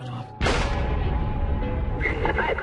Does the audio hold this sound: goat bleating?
no